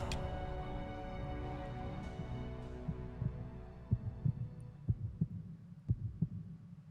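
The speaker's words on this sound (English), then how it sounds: "Subtle heartbeat." A subtle heartbeat sound effect from the PS1 game Metal Gear Solid thumps in soft, regular pulses beneath a fading musical hum, growing more distinct toward the end.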